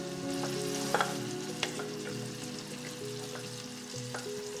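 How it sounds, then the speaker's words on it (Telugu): Ground ripe red chilli paste drops into hot tempering oil with chana dal for a pickle, sizzling steadily with a few sharp crackles and spatula scrapes, fairly soft and close. "ఇప్పుడు అందులోకి మనం రుబ్బి పెట్టుకున్న ఈ పండు మిరపకాయల పచ్చడిని వేసుకోండి."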